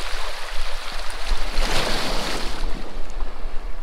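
Ocean waves washing onto a rock-strewn beach, a loud continuous rushing surf that swells into a breaking crest midway, with wind buffeting the microphone.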